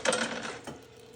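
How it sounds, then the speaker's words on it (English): Coins dropping into a Bonanza Million Dice coin-operated arcade machine, a brief metallic clatter and mechanical rattle up close, over in about a second. "as soon as it lights up after reading the dice, you can start inserting coins again"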